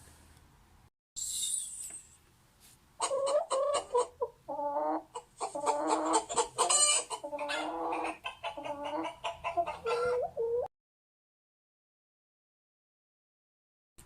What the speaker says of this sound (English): It was a hen.